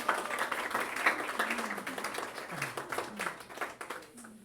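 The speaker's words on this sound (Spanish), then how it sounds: "¡Aplauso!" A church ministry group applauds, a loose patter of hand claps with uneven rhythm that rises and fades over a few seconds while voices talk and call out over it.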